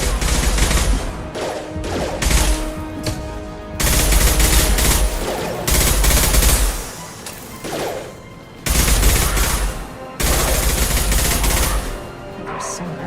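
Loud bursts of rapid gunfire in Mass Effect 2 combat come in repeated volleys separated by short pauses, with a voice speaking between them.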